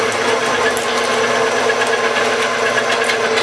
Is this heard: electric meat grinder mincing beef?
yes